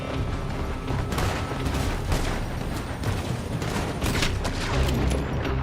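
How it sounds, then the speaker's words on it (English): Distant gunfire rings out from a building during a Red Dead Redemption 2 shootout in Lemoyne, a dense crackle of overlapping shots and booms running steadily under a busy, noisy mix. "They're shooting from that building."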